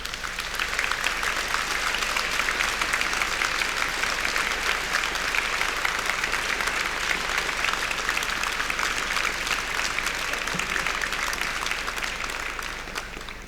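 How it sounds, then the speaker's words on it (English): Graduates at a Belfast degree ceremony applaud their family and friends, a large hall filled with sustained, even clapping from many hands that continues steadily throughout without speech. "give them a great round of applause for helping you"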